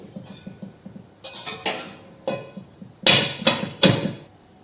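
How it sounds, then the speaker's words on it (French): Several sharp taps and cracks as eggs are broken against a bowl and dropped into it, about five distinct knocks spaced out over a few seconds, close and fairly loud with no talking. "on va casser les œufs dans un saladier"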